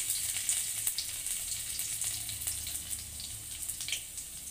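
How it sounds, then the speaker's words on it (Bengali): Garlic sizzling in hot oil in a home kitchen pan, a steady bright crackle and hiss with scattered pops, fairly quiet and close, with no talk. "তেল গরম হয়ে গেছে, রসুনটা দিয়ে দেবো।"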